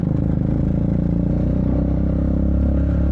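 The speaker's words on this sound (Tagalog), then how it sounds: "pasensya na kung maingay ang aking motor" Triumph Speed 400 motorcycle engine running with a steady, close, loud low drone and a fine mechanical clatter, holding an even pitch throughout with no talk.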